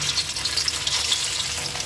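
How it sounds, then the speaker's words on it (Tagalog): Oil sizzling and crackling steadily in a pan as Thai-style fish cakes with long beans fry, a close, continuous bright hiss with small pops. "tapos ng pag-shape natin, magpiprito na tayo"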